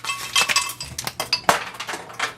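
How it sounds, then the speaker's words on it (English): A full tray of ice cubes clinks and rattles as it is handled, a quick run of sharp, bright cracks and taps close by, uneven in rhythm, with no talking over it. "Now a full tray of ice cubes."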